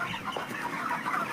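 Chickens on a poultry farm, drinking from water pots, give off a steady stream of overlapping clucks and soft calls at moderate loudness, continuous throughout with no talking.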